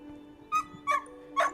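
Dogs barking among a gathering of people at a heritage open day: three short yips or barks spaced about half a second apart, fairly near, over a faint background hum.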